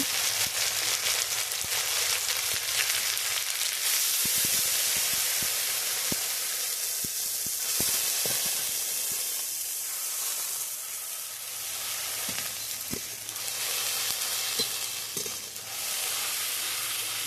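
Ginger, garlic and chilli masala paste fries and gets stirred in a pan, a steady loud sizzle with scraping stir strokes and bursts of hissing steam throughout.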